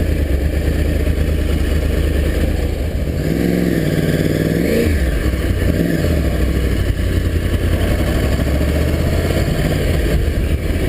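Motorcycle ridden through Phoenix at night toward the airport, its engine a steady close drone under heavy wind rush with brief pitch swells as it accelerates, no talking.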